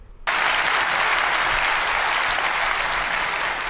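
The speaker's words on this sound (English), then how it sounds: "allowing the audience to receive that information and start clapping" Sustained audience applause breaks out after a speech, a dense wash of clapping hands that starts abruptly and holds steady and loud throughout, with no voices over it.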